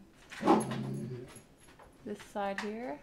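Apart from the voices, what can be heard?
dog whimpering, upset at a cat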